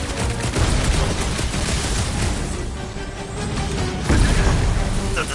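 Sustained gunfire at cold-rolled iridium clamps in the Guardians of the Galaxy video game, a dense continuous volley of shots mixed with game effects and music, with a louder burst near the end.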